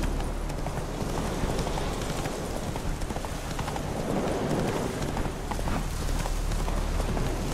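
Horse hooves galloping in The Witcher video game, a steady, dense clip-clop of hoofbeats over continuous outdoor rumble, loud and close throughout with no talking.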